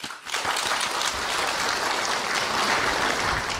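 Sustained applause from a large assembly greeting the General Secretary and Political Bureau Standing Committee members at the Great Hall, a steady, even roar of clapping after a brief quiet start.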